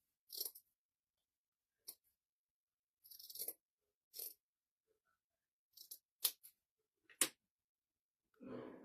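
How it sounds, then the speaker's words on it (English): Quiet, scattered scissor snips cut material for a spring bunny craft kit, a few short crisp cuts separated by silence, ending with a soft rustle. "I'm just adding a little, I'm just cutting."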